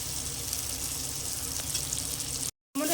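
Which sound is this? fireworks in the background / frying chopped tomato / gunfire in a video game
frying chopped tomato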